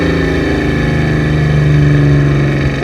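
Eleanor Mustang from Gone in 60 Seconds idling close by, a loud, steady rumbling engine tone with a slight rise in pitch toward the end.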